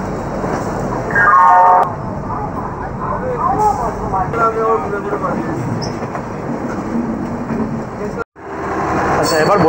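Steady rumble and rattle of the 22912 Shipra Express train running out of Howrah towards Indore, heard from inside an air-conditioned coach, continuous and loud with a brief dropout before it resumes.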